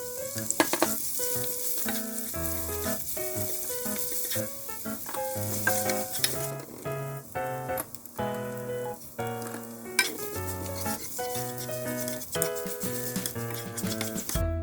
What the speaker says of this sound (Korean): 채소는 기름을 두르고 소금 간만 살짝 해서 볶아주세요.